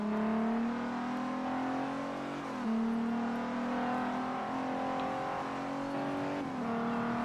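A car engine in the racing game Forza Horizon revs hard and steadily at high pitch through an enduro race, dipping briefly twice as gears shift before climbing again, loud and continuous with no voices.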